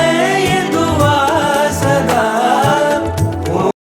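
Shakers and jangles in a percussion loop, layered over tablas in an Ableton track: a dense, bright rhythmic texture with steady shuffling hits that plays loud, then cuts off abruptly to silence.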